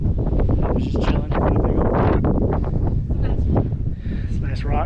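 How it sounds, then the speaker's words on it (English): Gusty wind on a mountain buffets the microphone in low, rumbling bursts, loud and close, while a person talks through it. "A little windy. I should have brought the other mic"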